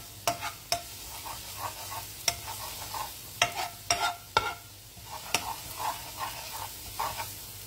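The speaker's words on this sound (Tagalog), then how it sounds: "hayaan natin maluto muna yung garlic" Garlic sizzling in a pan with butter, with a steady low fry under repeated sharp clicks and scrapes of a utensil stirring against the pan, close and fairly loud, no voices.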